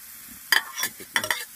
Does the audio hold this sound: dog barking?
no